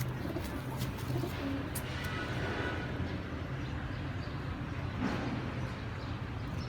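Young pigeons offered for sale coo softly and steadily in a cage area, their low murmuring calls continuous across the stretch with faint rustling and a busy background hum.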